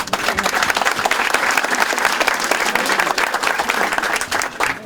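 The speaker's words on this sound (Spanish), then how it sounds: "un aplauso porque lo acaban de liberar" A crowd claps loudly and continuously for a freed elderly man, dense sustained applause that stays even from start to finish.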